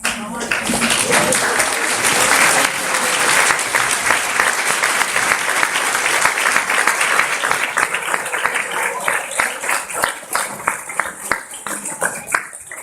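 An audience at a program event gives a long round of applause for honored team members. Dense, loud clapping holds steady, then thins toward scattered claps at the end.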